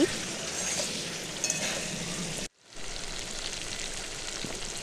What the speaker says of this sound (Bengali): আর অল্প একটু জল দিয়ে দেবো মশলাটা যাতে না ধরে যায় তো মশলাটা কষে নিচ্ছি